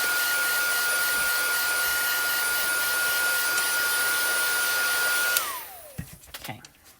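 A heat tool blows a steady, loud whirring roar while heat-setting paint on a seagull and driftwood painting, then shuts off and winds down, followed by a few light handling clicks.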